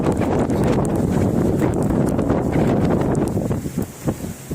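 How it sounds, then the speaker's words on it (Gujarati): Strong wind roars and buffets the microphone continuously, a loud rushing noise that eases slightly near the end. "જોરદાર પવન છે"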